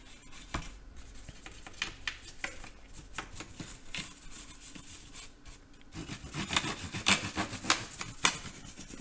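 A liquid-damaged laptop is scrubbed with cleaning product: a close, steady run of scratchy rubbing strokes that grows louder and busier toward the end, with no talking.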